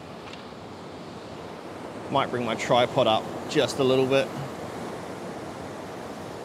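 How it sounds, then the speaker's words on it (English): Ocean waves break steadily along the rocky shore at Burleigh Heads, a continuous surf wash that stays beneath a nearby man's short spoken remark. "Wait for a big wave."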